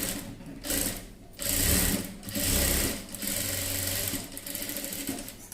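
A sewing machine stitches a child's frock in several bursts, running, pausing briefly, then running again at close range with a steady mechanical whir and no talking.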